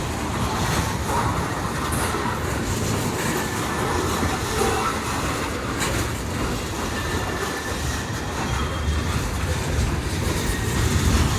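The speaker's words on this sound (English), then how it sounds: "I think the engines are just now crossing Main Street." Train engines rolling through a rail yard across Main Street, a steady loud rumble with wheel clatter and faint high squeals, heard continuously without speech.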